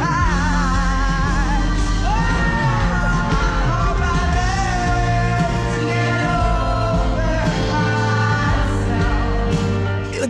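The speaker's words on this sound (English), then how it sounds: "The problem for me was the literal screaming." A person screaming at a concert, with loud, sustained yelling and whooping over a dense, roaring crowd and music, continuous for about ten seconds.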